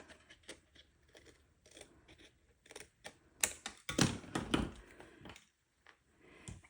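Paper trimmer or scissors cutting excess card stock from a handmade winter card, giving soft scraping, slicing strokes at close range with a louder cluster of cuts partway through, quiet and without speech.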